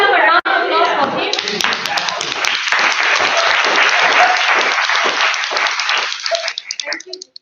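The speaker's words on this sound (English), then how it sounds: "Can we have a round of applause for him?" After a brief spoken phrase, members at a club meeting give dense, lively applause that holds steady for several seconds before tapering off into a few scattered claps.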